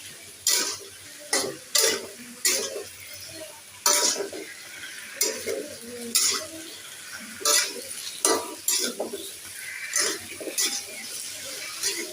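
A curry of taro, potato and aubergine is sautéed in a pan, a spoon scraping and knocking against the metal in irregular bursts over a faint sizzle, close and fairly loud.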